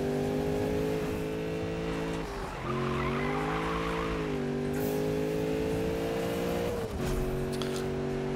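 Car engine in Need for Speed (2015) droning steadily during free-roam driving, holding a sustained loud pitch that dips briefly twice as the car shifts, with some tire noise mixed in.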